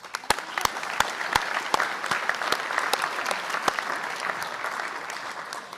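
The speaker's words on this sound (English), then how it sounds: "Graduates, please join me in giving them a round of applause to express our gratitude." Sustained audience applause at a baccalaureate ceremony honoring graduates' teachers and mentors, a dense steady wash of many hands with a few sharp, close claps standing out, no voices over it.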